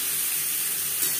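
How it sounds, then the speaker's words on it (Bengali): Boiled potato halves fry in oil with salt and turmeric, giving a brief, steady hiss of sizzling close by. "আলু ভেজে নেব।"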